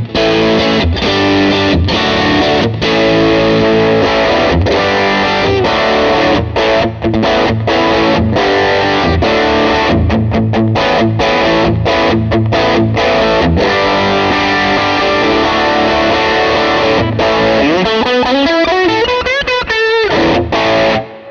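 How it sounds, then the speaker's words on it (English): A guitar runs through a Line 6 HX Stomp Retro Reel effect with saturation at maximum, giving a loud, continuous overdriven distortion tone with sustained chords and picked notes, ending on a rising bend. "It can make this sound like a distortion, or rather an overdrive"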